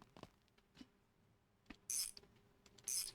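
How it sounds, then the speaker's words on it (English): Engine valve cover bolted down in the My Garage video game: a few soft mechanical clicks and ratchet-like taps, then two short bursts of bright, close metallic clatter, with quiet gaps between. "let's bolt this down as well"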